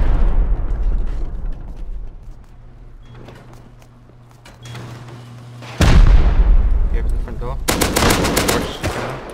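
Rocket fire and explosions during a raid in the game Rust, a loud burst of blasts after a quieter stretch with a low hum, followed by more heavy impacts and rattling fire.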